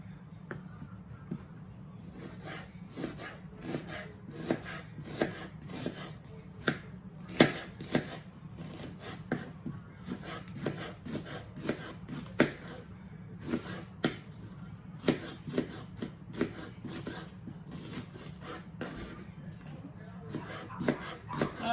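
Onions are sliced lengthwise with a knife on a cutting board in a home kitchen, giving a steady run of crisp, evenly spaced chopping taps that continue for about twenty seconds at moderate volume.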